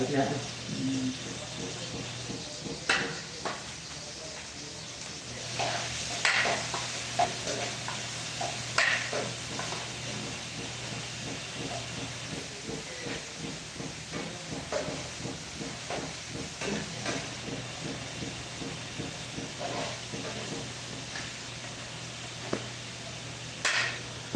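Onions frying in oil in a home kitchen, with a steady hiss and sizzle running throughout, broken by occasional stirring clatters and with people talking over it.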